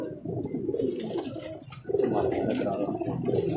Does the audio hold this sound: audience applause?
no